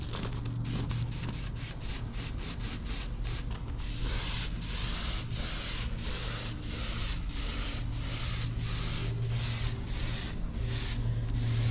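A spray gun throws paint onto a root rake for a D3 dozer. Close, loud hissing comes first in a run of short bursts, then settles into longer, steadier spraying.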